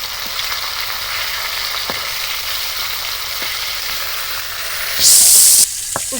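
Steady, loud sizzle of whole tilapia frying in hot oil, with a few faint clicks and a brief louder hiss near the end as the fish are flipped.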